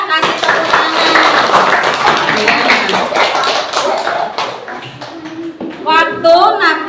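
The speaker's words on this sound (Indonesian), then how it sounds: "Tepuk tangan dulu ya, kasih tepuk tangan" Classroom applause from students during a lesson, a dense burst of many hands clapping at once that fades gradually over several seconds, followed by a teacher's voice speaking.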